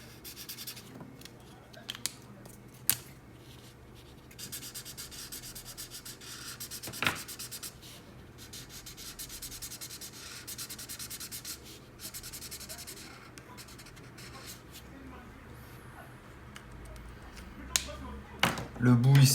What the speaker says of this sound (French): La tige, on va venir la colorier avec la couleur beige pastel.